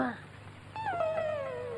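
A dog whimpers inside a house with nobody home, giving one long, high, thin whine that slowly sinks in pitch, following a short voice at the very start.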